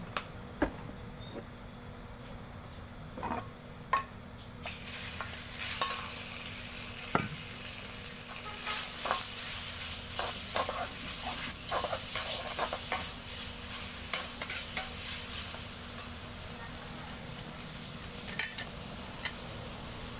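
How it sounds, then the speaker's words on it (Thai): Southern Thai curry paste and pork belly stir-fry in oil, a faint, low sizzle with scattered clicks and scraping of stirring, quiet and fairly distant, no speech. "เติมน้ำมันลงไปนะคะ ผัดพริกแกงให้เข้ากัน"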